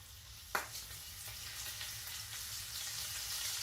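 Meat sizzles steadily in a hot pan on a wood stove, with a sharp clatter near the start as venison goes into the bacon fat, then a continuous close frying hiss building slightly louder.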